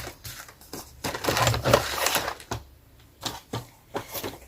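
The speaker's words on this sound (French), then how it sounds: "Donc, je reprends mon massicot." A paper trimmer (massicot) cuts through paper in a run of short scraping, clacking strokes that vary in loudness. They are close by and come in quick bursts with brief pauses, and no one talks.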